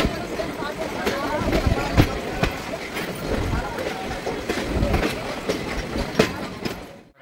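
The Ratnachal Express, hauled by a WAP electric locomotive between Vijayawada and Visakhapatnam, rumbles along with rhythmic clickety-clack of wheels over rail joints, heard loud from on board and fading at the end.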